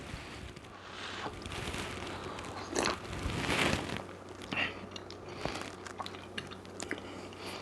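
Someone chewing a mouthful of ham and cannellini bean soup, soft wet squishing and biting sounds close to the microphone, irregular and fairly quiet over faint background noise, no talking.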